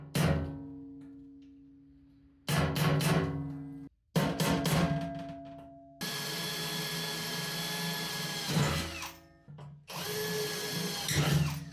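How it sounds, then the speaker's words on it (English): A power drill whirs in several separate bursts, stopping and restarting, with one long steady run of high-pitched grinding, loud and close, drilling bolt holes in a custom skid plate for a Range Rover L322. "drill some new holes for the bolts"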